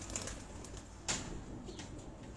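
Pigeons kept on a rooftop on Chuck Bailey Road in Rawat coo softly amid low background noise, with a brief sharper sound near the middle, faint and without talk.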